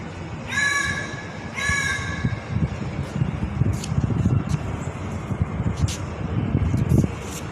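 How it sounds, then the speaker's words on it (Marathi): A crow gives two harsh, drawn-out caws close by in Ayodhya, then a steady rumble of passing traffic fills the background. "इथं एक कावळा सुद्धा राम राम असं म्हणू लागलाय"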